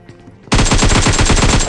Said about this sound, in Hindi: अब यहाँ पे मैं प्रोन फायर करता हूँ